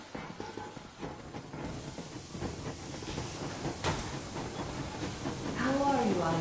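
Steam train locomotive in Metro Exodus pulling away: a broad hissing rush of steam and rumbling rail noise that swells toward the end, with a whistle-like tone rising at the close.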